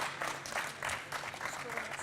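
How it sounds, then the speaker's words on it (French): An audience at a food-industry hygienic design award ceremony applauds steadily, a dense patter of clapping filling the whole moment with no voices over it. "On peut l'applaudir, hein, on peut l'applaudir."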